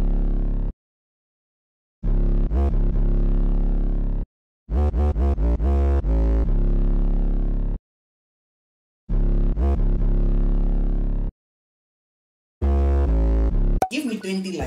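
An FL Studio beat plays a deep, booming 808 bass drum pattern in loud phrases separated by silent gaps, some notes gliding in pitch and others struck in quick rolls.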